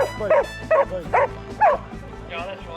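A dog barks four times in a quick, evenly spaced series, close and loud, with a short yelping whine at the end. Recorded outdoors in rural South Australia.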